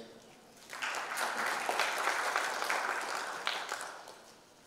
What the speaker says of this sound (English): Another round of applause to ITL